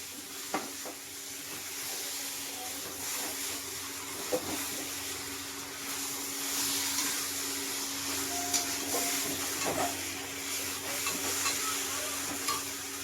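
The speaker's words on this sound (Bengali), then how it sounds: "মশলার মধ্যে মাংসটাকে খুব সুন্দর করে মিক্সড করে নেব" Mutton is stirred and mixed into spices in a hot pan, giving a steady soft sizzle with scraping stirs and occasional light knocks throughout, no voices present.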